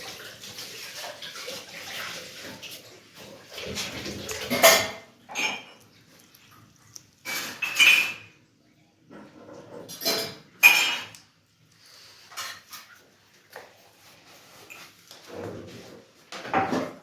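Dishes are washed in a busy home kitchen sink: running water splashes in bursts while plates, pots and cutlery clink and clatter, close and intermittent, with quiet pauses between handfuls and no talking.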